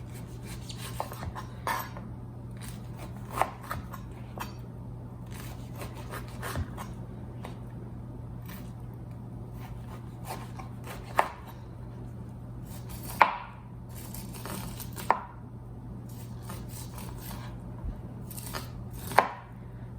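A knife slices corn kernels off the cob into a bowl, with close, irregular scraping cuts and sharper knocks every second or two over a low steady hum.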